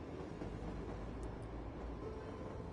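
A passenger train rolls through a North Pole Christmas town in Cities Skylines, giving a steady, continuous rumble with faint rail rattle and no talking.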